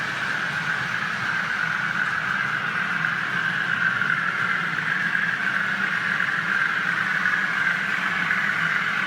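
A Grange class model locomotive runs with a freight train on a model railway layout, making a steady mechanical hum and whir that holds at an even level throughout, with no talk.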